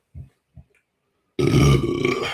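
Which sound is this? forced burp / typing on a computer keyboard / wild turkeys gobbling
forced burp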